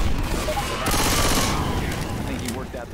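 Dense automatic gunfire and bursts of shooting from a zombie horde shooter game, Left 4 Dead 2, loud and continuous with rattling fusillades over about three seconds, mixed with game noise.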